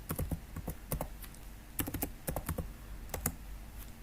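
Bursts of clicky keystrokes on a computer keyboard while a Node.js file is being written, irregular clusters of taps with short pauses between them, close and alone.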